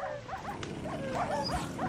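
Several dogs in a Minecraft game yip and whimper in quick, repeated bursts, fairly faint and continuous behind soft background noise.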